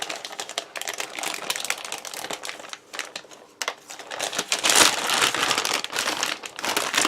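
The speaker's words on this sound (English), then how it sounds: "it's got a little tear line telling you to tear across the top" A self-heating ration packet torn open across the top along its tear line, loud close crinkling and ripping of packaging that comes in bursts and swells toward the end, with no voices.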